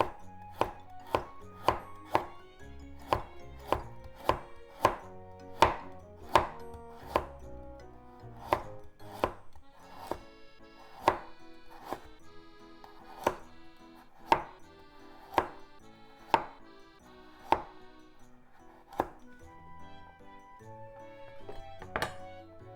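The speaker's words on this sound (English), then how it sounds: "So let's make it into very thin slices first." A knife chopping through vegetables on a cutting board, cut into very thin strips for a bean sprout salad, with sharp, evenly spaced knocks that come steadily, with light music playing quietly underneath.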